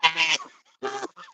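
A large, heavy pet goose honks in two loud, close bursts with a pause between, the second slightly shorter, and a faint trailing call at the end.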